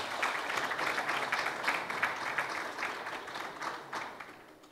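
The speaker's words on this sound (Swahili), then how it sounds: "Makofi mengi sana." An audience applauds at a Simba club event, a fairly faint, steady patter of many hands clapping together without pause.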